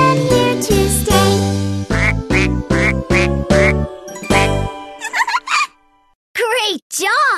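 A Fisher-Price Laugh & Learn electronic game plays a sung jingle, then a few loud, close electronic duck quacks sound alone.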